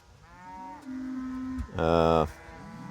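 A cow lets out a long, low moo, followed by a louder, brighter bellow that stops abruptly, close by in quiet surroundings at 6 a.m. during breeding season.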